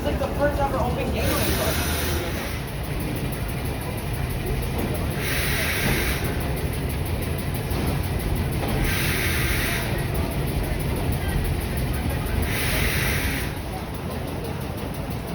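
A New York City subway R33 train rumbles along the track with a steady low roar and hiss, joined by periodic bursts of bright higher noise that recur every few seconds across a long, even pass.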